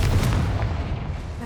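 Confringo explosive spell blast in Hogwarts Legacy: a loud, close, booming burst with a deep rumbling body that fades gradually over about a second and a half.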